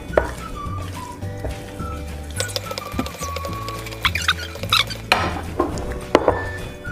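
Seasoned chicken being stirred in a bowl with black pepper, giving close, irregular scraping and clinking of utensil against the bowl over a steady low hum, with no talking.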